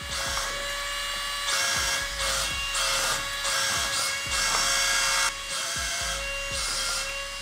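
Remote-control wall-climbing toy car with its motor running, a high whining buzz that starts and stops in short repeated bursts over a steady fan-like hum, close and fairly loud with no talking.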